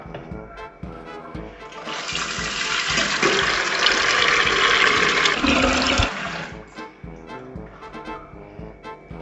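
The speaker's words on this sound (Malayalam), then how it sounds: "നമുക്ക് ഈ കുടുക്കിൽ തന്നെ മൊത്തം വെള്ളം നിറച്ചേക്കാം" Water gushes steadily into a vessel for several seconds, a loud broad rush that swells and then cuts off, with faint clatter before and after.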